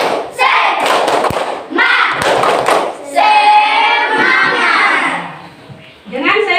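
A school class performs a rhythmic spirit clap, bursts of many hands striking in patterned groups, loud and close, broken by children's shouted voices in between.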